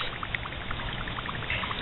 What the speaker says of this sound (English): I just dumped in some little dry ice pellets in the cup, and it creates this like fizz